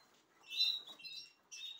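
Small trained birds kept by a longtime breeder chirp in short, high tweets, with a brief burst near the start and another toward the end, close and soft, with no voices.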